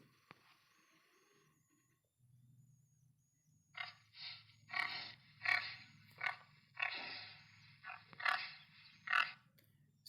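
A tiger roars in a series of rough, pulsing growls that start after a quiet opening, repeating every second or so and rising and falling in loudness.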